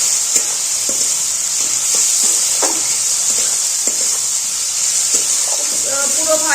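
Spices and Kashmiri chili powder fry in oil in a pan, giving a constant bright sizzle while a utensil scrapes and stirs in scattered short strokes.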